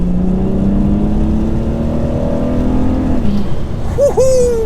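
A modified BMW 135i pulls hard in third gear on a wet road, its engine note rising steadily and loudly from inside the car before a shift, a short whoop of voice at the end.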